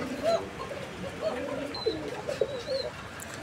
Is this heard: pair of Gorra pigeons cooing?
yes